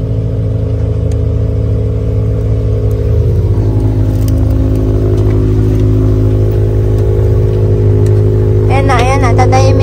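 A car engine idles steadily and close by, with a low continuous rumble holding for the whole stretch and a brief higher scraping burst near the end.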